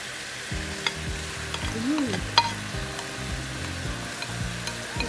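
Liver sizzling and frying in a pan of igado, the Filipino pork and liver stew: a steady close sizzle with scraping stirs and light clinks of a utensil against the pan.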